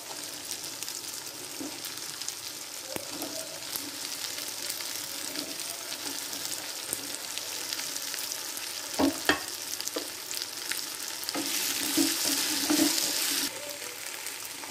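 Okra sizzles steadily in hot oil in a pan for a fish and lady finger curry, with occasional spoon scrapes and clinks as it is stirred, fairly quiet and close, no talk.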